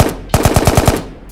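A rapid burst of six gunshots in quick succession, loud and punchy, preceded and followed by a brief reverberant tail.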